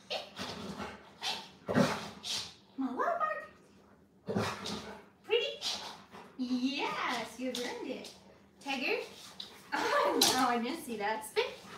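A dog barks on command in short bursts, mixed with a person speaking commands and some clapping; barks and voice alternate, close up and moderately loud.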